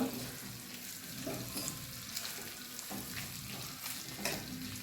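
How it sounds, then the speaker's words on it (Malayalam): Hog plum pickle stirred in a hot pan, a steady broadband sizzle with scraping spoon strokes recurring every second or so, close and fairly quiet, with no one speaking. "നന്നായിട്ടൊന്ന് ഇളക്കി കൊടുക്കാം"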